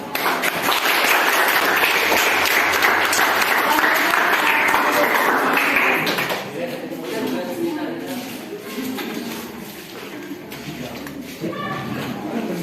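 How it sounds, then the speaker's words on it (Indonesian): Group applause from participants after a group presentation at a teachers' academic coaching workshop: loud, dense clapping holds steady for about six seconds, then fades into people talking and murmuring in the room. "kita berikan tepuk tangan"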